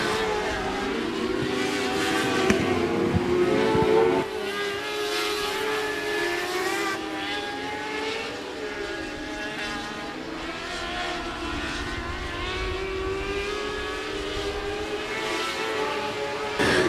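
Race cars in a Mod Light heat race at 105 Speedway produce a continuous, loud engine roar that swells and fades slightly as they circle the dirt track, with no talk over it.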